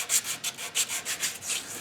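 Rhythmic back-and-forth rubbing of 3M 400-grit sandpaper on a composite surface, close up, in about eight short bright strokes with brief gaps, no talking.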